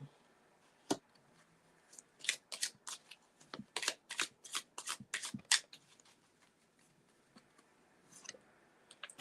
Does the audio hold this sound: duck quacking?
no